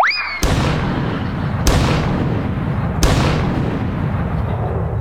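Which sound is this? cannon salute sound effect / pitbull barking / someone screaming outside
cannon salute sound effect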